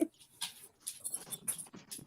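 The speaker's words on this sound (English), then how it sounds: "You're a good dog. You didn't bark long." A dog indoors makes soft, intermittent whimpering and scrabbling sounds in several short bursts, fairly quiet and close by, with no talking.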